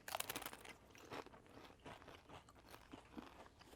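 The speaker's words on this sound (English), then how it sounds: "I'm sorry for chewing" Someone chews food close to the mic, making soft crunching and biting sounds in an irregular rhythm during a hot sauce tasting. The sounds are quiet and come one after another.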